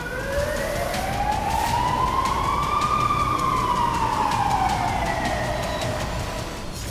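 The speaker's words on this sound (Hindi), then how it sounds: "इजराइल के कई शहरों में लगातार सायरन बज रहे हैं" An air raid siren wailing in an Israeli city during drone attacks, one long rising and falling tone, loud and steady over a constant background rumble, with no talking.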